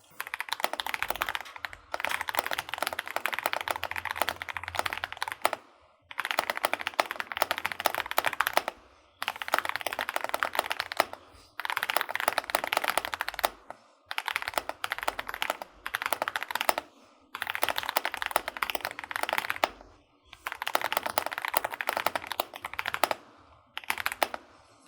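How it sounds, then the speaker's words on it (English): Stock Epomaker Dynatab 75X mechanical keyboard typed on in quick, even bursts of clacky keystrokes, with short pauses between runs, close and clear with no voices. "Let's go through the stock typing test."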